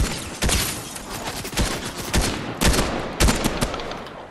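Gunfire in a Fortnite trios match, a string of sharp, loud shots in irregular bursts and single cracks, some close and punchy, spread across a few seconds with no talking.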